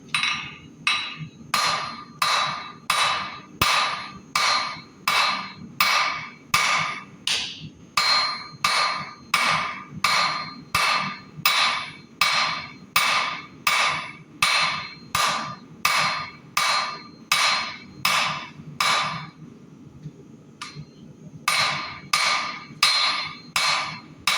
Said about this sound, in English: So now I'm just going to kind of start forging in, or thinning down the part that's going to become the blade.